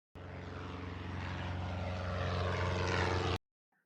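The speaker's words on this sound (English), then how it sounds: "airplane," A propeller airplane drones loudly and steadily, a dense engine roar that builds slightly over about three seconds and then stops abruptly, with no voices.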